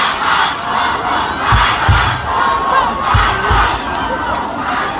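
Large crowd at a political rally for President Bongbong Marcos and Congressman Sandro Marcos, shouting and cheering loudly in sustained waves, with a few sharper bursts rising above the roar.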